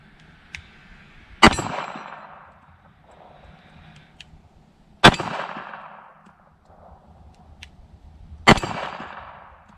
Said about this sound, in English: I know this is a little pocket gun, but I'm going to bear down and try to hit that small plate.